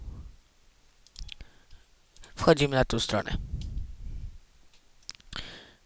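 A computer mouse clicks a few times while someone browses to a download page in Windows XP, the faint clicks coming between stretches of talk.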